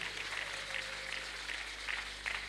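A church congregation applauding, a soft steady patter of many hands spread through the room, faint and distant over a low hum.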